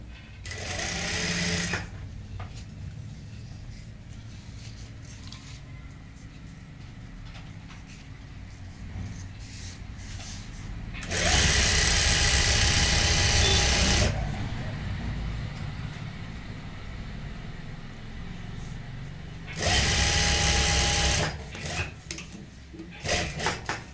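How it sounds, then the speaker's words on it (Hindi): A sewing machine stitches a handbag handle during home bag-making, running in three loud bursts of fast, even whirring, with quieter handling sounds between the runs. "यहाँ पे इस तरीके से फोल्ड करते हुए ऊपर से सिलाई लगा लेंगे"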